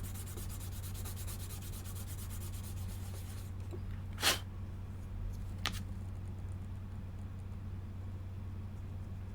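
Medium-grit sanding plate worked by hand over a surface in a quiet room, a soft continuous rubbing that stops partway through, followed by a couple of brief sharp sounds.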